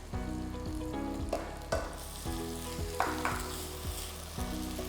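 Onion and ginger garlic paste fry in a pan for a malai kofta curry, giving a steady close sizzle broken by regular scraping stirs and occasional sharper crackles, with no voices.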